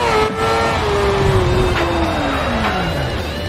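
Rally car engine in a rallycross video game, revving steadily with a single tone sliding slowly downward over a continuous loud drone, with no talking.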